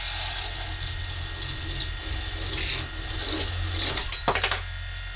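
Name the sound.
metal cutting bandsaw cutting a rear lower link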